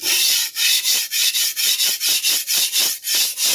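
Steady rasping strokes of a Clyde Cutlery chef knife drawn across a sharpening stone, about a dozen quick back-and-forth passes on the blade's right side, close and continuous with no talking.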